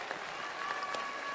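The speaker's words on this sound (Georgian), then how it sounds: "გავაცილოთ საპა აპლოდისმენტებით" A television quiz-show audience gives faint, distant applause as a contestant leaves the stage, a soft continuous wash of clapping lasting only a moment.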